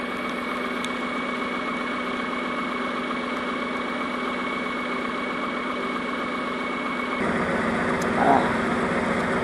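A John Deere 4020 tractor engine idles steadily at close range, a constant mid-pitched hum with a low rumble that grows slightly louder near the end, with a faint voice present at times.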